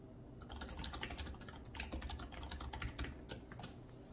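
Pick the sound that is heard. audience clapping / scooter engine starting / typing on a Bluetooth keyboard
typing on a Bluetooth keyboard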